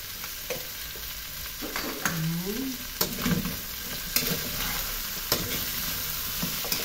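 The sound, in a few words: stirring seasoning into a frying dish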